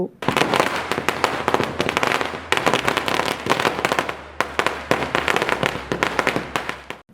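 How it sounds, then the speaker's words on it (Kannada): Strings of firecrackers go off in Chikkamagaluru as BJP workers celebrate an election win. Rapid, dense crackling rattles on loudly in three long bursts with short pauses between them. "ಬಿಜೆಪಿ ಕಾರ್ಯಕರ್ತರು ಪಟಾಕಿ ಸಿಡಿಸಿ ಸಿಹಿ ಹಂಚಿ ಸಂಭ್ರಮಿಸಿದರು"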